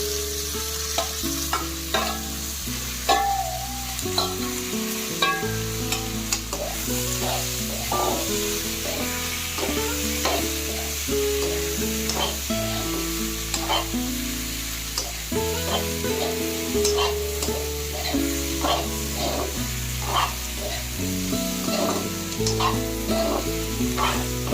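Boiled pork sizzles loudly in a pan with softened onions while being stirred, a steady close frying hiss broken by repeated scraping and clacking strokes of the spatula throughout.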